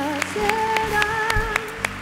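Church congregation clapping in a steady rhythmic beat during a pastor's service, evenly spaced claps repeating under a sustained sung or musical tone.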